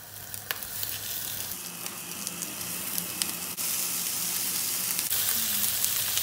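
Köfte meatballs sizzle loudly and steadily in a frying pan, a dense continuous crackle with a few soft clicks and a small bump as more pieces go into the pan.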